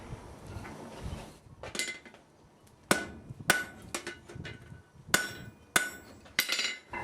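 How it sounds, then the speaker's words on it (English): A blacksmith hammers the upset corner of a metal grille on an anvil, sharp ringing blows landing irregularly, some in quick pairs, with short pauses between strikes, close and clear. "I'm going to go to the anvil now and dress some of this excess material and try and force that out to the outside of the corner"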